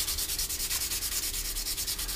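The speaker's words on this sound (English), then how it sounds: "Now what we do is then we'll switch to a finer sanding block" A finer sanding block is rubbed in quick, even back-and-forth strokes over a plastic scale model kit of a Harrier GR7, producing a soft, rhythmic rasp heard up close with no talking.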